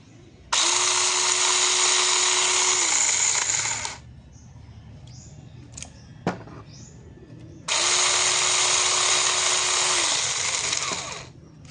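Cordless chainsaw, freshly unboxed, revving in two long steady bursts of about three seconds each, loud and close, with a quiet gap between them holding a sharp knock and faint handling noises.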